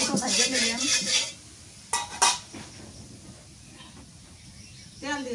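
A metal utensil scrapes and clinks against a pan while ridge gourd and egg are fried, with sharp knocks in the middle, soft sizzling underneath and a voice speaking briefly near the end.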